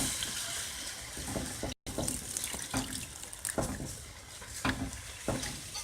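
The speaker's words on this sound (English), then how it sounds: "So I'm going to start slowly adding milk to the pan" Milk streams into a pan for chipped beef gravy, a steady watery pour with soft splashing that runs continuously at moderate level, with brief dropouts and some faint clatter.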